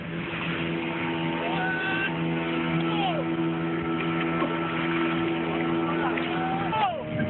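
A high-speed rubber boat with an outboard motor planing across the sea during a 2001 Kostrad combat reconnaissance training exercise, its engine a steady, loud drone throughout with a brief rise in pitch near the end.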